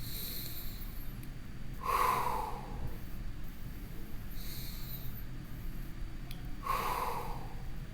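During a shoulder stretch, slow deep breaths come close and clear: two long airy exhalations several seconds apart over a steady low hum, with no talking.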